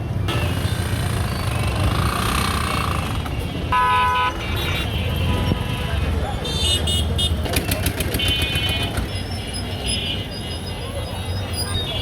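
Motorcycle on a busy road at the main bus stand in Kaliganj, Jhenaidah, engines buzzing amid steady traffic noise with several horn toots and a rattling burst, while someone talks over it.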